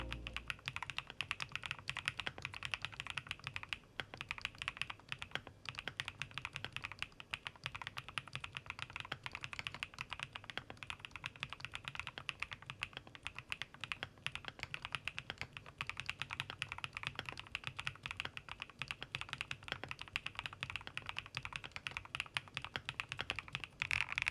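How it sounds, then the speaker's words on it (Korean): Continuous rapid typing on a Thinkway Toxheff 301 mechanical keyboard with linear switches, a steady stream of soft, dense keystroke clacks with no voices. "타건 소리가 좀 나기는 하지만 그만큼 또 타이핑의 재미에 집중할 수 있는 비선 토이 스위치"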